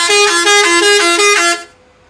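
Vehicle horns honk in a traffic jam at a highway toll plaza in Punjab, a loud, steady blare with a few rhythmic pulses lasting about a second and a half before cutting off.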